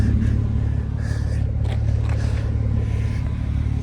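A 2003 Ford Mustang engine idles with a low, steady rumble, holding even throughout with faint mechanical noise on top.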